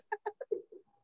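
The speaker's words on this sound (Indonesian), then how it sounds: "Itu burung" A bird, likely a pigeon or dove, gives a quiet run of five or six soft cooing notes that fade away, heard faintly on its own.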